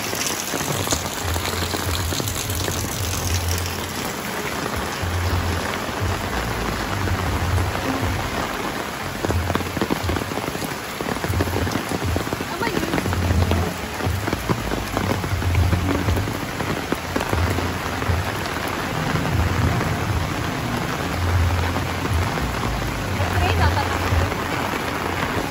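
Heavy rain pours steadily onto a roof and surroundings throughout, a dense continuous wash with occasional low rumbles that may be distant thunder.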